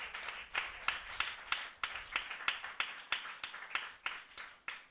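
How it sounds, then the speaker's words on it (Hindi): A church congregation claps their hands in a fairly steady rhythm, roughly two to three claps per second, moderately loud and continuing throughout, with no one speaking over it. "ताली बजाकर परमेश्वर का धन्यवाद करें।"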